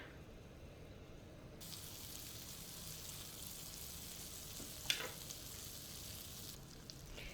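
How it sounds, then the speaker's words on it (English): Butter melting in a pan for an Alfredo sauce, a quiet, steady low sizzle running throughout with one faint brief clink partway through. "I'm going to start melting my butter."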